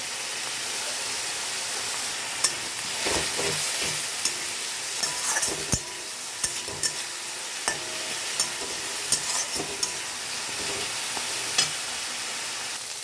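Onion, ginger, whole chillies and green chillies fry in hot oil with a steady crackling sizzle, broken by repeated sharp scrapes and knocks of a spatula stirring the pan.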